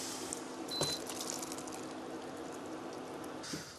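Cooked mushrooms with their liquid poured into a pot of chicken, a steady wet pouring and splashing close by, with a faint metallic clink near the start.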